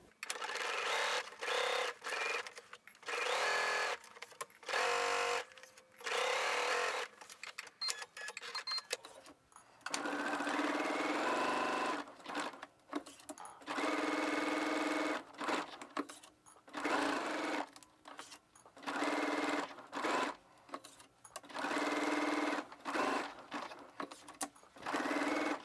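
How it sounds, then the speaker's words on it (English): A sewing machine stitches a 5/8 inch seam in repeated bursts of rapid mechanical whirring, stopping and starting many times with short pauses between runs. "we're gonna stitch 5/8 of an inch"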